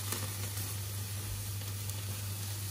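Garlic and thyme sizzling on a hot barbecue grill next to a côte de bœuf, a steady close hiss of frying with a low constant hum underneath, no voices.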